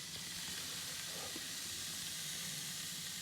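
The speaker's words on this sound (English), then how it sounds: "What is that sizzling we hear?" Steady broadband sizzling hiss fills a shed, constant and fairly faint throughout, with no talk over it.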